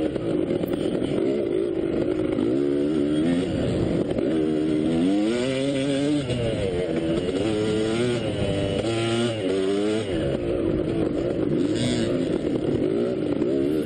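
A dirt bike engine during a hare scramble race drones loudly and continuously up close, its pitch rising and falling in repeated waves as the rider shifts and throttles through the trail.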